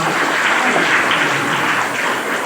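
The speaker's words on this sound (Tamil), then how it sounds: "ஒன்பதாவது அபிலேஷ் கூட ஒரு கைத்தட்டு கொடுங்க" Classmates clap for a student in a classroom, a short, close burst of many hands clapping, loud and fairly uniform before easing slightly at the end.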